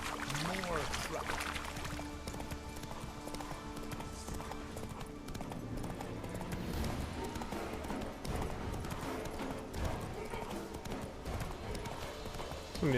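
Horse hooves clip-clop in a steady rhythm as a horse travels along a road in The Witcher 3: Wild Hunt, continuing throughout over game ambience and occasional mixed-in sounds.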